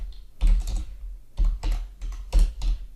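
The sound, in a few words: typing code on a computer keyboard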